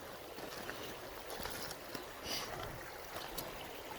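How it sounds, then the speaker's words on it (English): Creek water fed from a pond flows steadily outdoors as a soft, continuous broadband trickle and rush, fairly quiet and unbroken, with no voices. "this comes out of our pond and flows into this creek"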